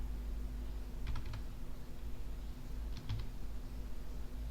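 Two short bursts of three or four keystrokes on a computer keyboard, faint clicks over a steady low hum in a quiet room.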